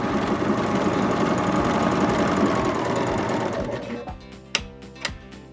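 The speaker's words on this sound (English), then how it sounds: "we're going to sew our last pin tuck" A Baby Lock Vibrant sewing machine stitches a rolled edge pintuck in a rapid steady whir that stops partway through, followed by a few sharp mechanical clicks and clunks.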